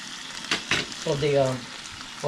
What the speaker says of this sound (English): It sounds like it's cooking, but it's not cooking.